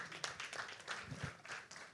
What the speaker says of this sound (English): Please, a round of applause for our esteemed panelists once again.